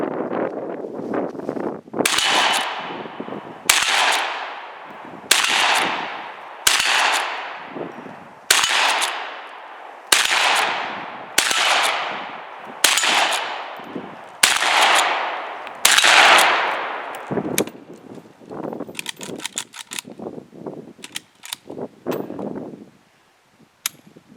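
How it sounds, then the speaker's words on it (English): A Rossi M92 lever-action rifle in .44 Magnum firing 240-grain cast loads sends about ten loud, sharp shots at a steady pace of roughly one every one to two seconds, each with a ringing outdoor echo, followed by quieter metallic handling clatter. "We're just going to throw 10 rounds of 240 grain cast loads through it."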